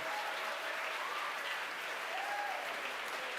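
Crowd at SpaceX headquarters applauds and cheers steadily through the whole stretch, a dense wash of clapping with occasional whoops rising above it.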